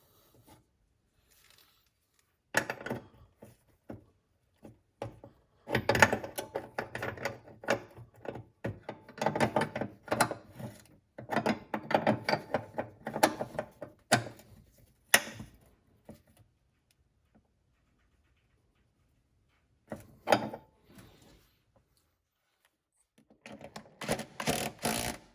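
Hand-threading and wrench-tightening a brake hose fitting on a Saturn Vue, heard as close bursts of scraping, rasping metal clicks that stop and start, with long quiet gaps between them.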